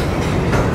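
A freight train rolling along the tracks heading toward Houston, a loud, close, continuous rumble and rattle of wheels and cars with no voices.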